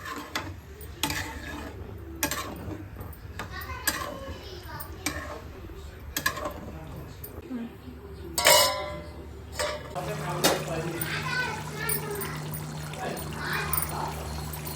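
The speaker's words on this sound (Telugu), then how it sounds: "వాటర్ వేసుకున్నాను" Water is poured into chicken curry cooking in a pan, a splashing pour with some stirring and clinking, while a person talks throughout.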